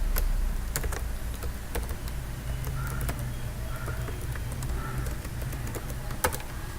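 Someone types a password on a computer keyboard: scattered, sharp key taps at irregular intervals over a low steady room hum, fairly quiet and close, with no voices.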